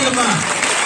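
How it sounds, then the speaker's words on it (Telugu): Loud burst of hand clapping from a gathered group at a felicitation ceremony, with a voice speaking over it at the start. "చప్పట్లతో చప్పట్లమ్మా"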